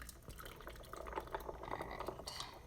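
A cocktail poured over ice in a glass gives a soft, steady liquid splash with faint clinks of ice, quiet and close, with no talk.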